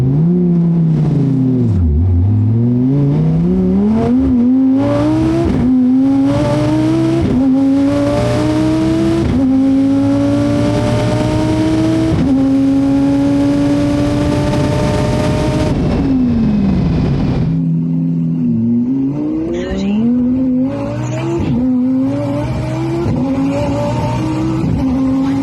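Powerful H-pattern manual-transmission drag race cars roar and rev hard, pitch climbing repeatedly through gear shifts, loud and close, then dropping off as the cars pull away.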